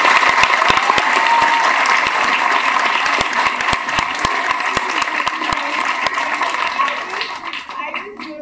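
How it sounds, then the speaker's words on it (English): A school annual day audience breaks into sustained, dense applause that fills the hall, loud and continuous before slowly thinning out at the end. "Let's clap for all of them."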